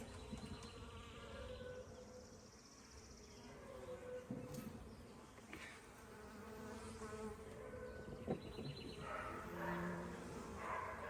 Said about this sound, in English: Look at those beautiful bees.